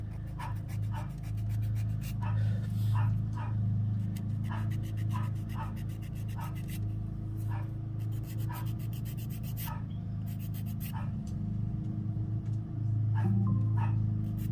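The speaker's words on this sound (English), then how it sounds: "Yeah, the dog's gonna bark at the gardener too." A household dog barks in short, repeated bursts at a gardener outside, the barks fairly faint against a steady low hum and a continuous rubbing, filing sound close by.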